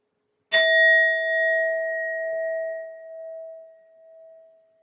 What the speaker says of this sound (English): I'm first going to use my sound bowl to clear and set the energy.